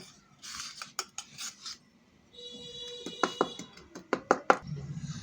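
A ladle clinks and scrapes against a metal wok while powdered milk is whisked into liquid milk, giving a run of sharp knocks and clatters that turn faster and louder toward the end, close up with no talk.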